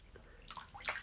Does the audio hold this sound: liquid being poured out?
yes